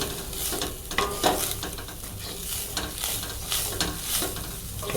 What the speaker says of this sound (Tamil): இதை நல்லா ரோஸ்ட் பண்ணணும்